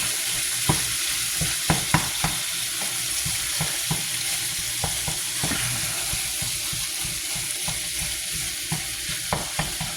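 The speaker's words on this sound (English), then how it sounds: "I'm going to put the turkey in the pan" Steady sizzling of ground turkey frying in a pan, with a spatula scraping and tapping now and then as it is chopped, close and continuous.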